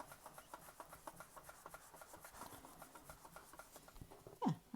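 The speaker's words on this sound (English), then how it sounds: "just keep rubbing it" Cloth pressed hard and rubbed over paper on a desk for a frottage background, a quiet run of rhythmic scrubbing strokes close by, with a louder scuff near the end.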